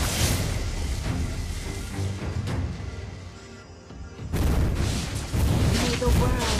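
A turret is destroyed in the mobile game Mobile Legends, with loud, layered explosive booms and crashing impacts. A second heavy blast comes near the end, and a game voice sounds among the effects.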